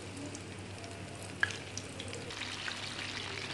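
Chicken wings deep frying in hot oil over a low flame, a soft continuous bubbling sizzle with a faint click, no voices.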